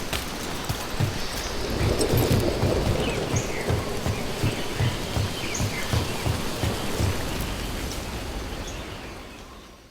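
Steady heavy rain and rolling thunder in the fantasy video game Dragon Age: The Veilguard, a dense continuous downpour with a low rumble pulsing underneath, loud and close without any talk.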